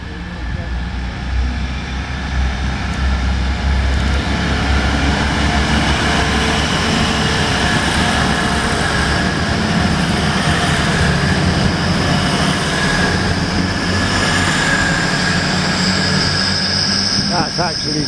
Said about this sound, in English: this is being held up on a red signal, but it's not an actual stopping train.